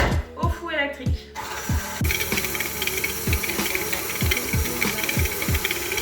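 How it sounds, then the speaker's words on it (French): A stand mixer whisks sugar for cookie dough, its rhythmic mechanical clicking and whirring running steadily after someone speaks briefly at the start. "On va mettre ça à fouetter au robot."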